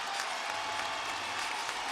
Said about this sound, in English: Crowd rises to its feet.